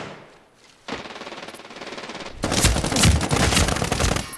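Rapid bursts of automatic gunfire in the video game Medal of Honor: Warfighter multiplayer, a quieter stretch of shots first, then louder, denser volleys with sharp cracks toward the end.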